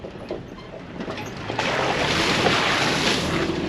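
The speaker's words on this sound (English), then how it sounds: "So here's a creek." Water of Onion Creek near Moab flowing along a desert trail, a steady broadband rush with wind buffeting the microphone, growing louder and fuller partway through, with no voices.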